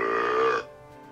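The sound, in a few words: storyteller imitating a loud belch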